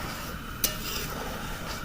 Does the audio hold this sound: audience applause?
no